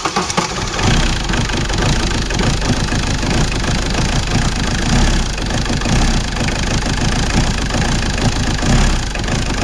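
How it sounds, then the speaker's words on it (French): A Ford 1.8 TD diesel engine cranks on the starter and catches, then settles into a loud, close, steady idle with a knocking diesel clatter for the rest of the clip, with no talk. "Allez, on démarre au démarreur cette fois-ci"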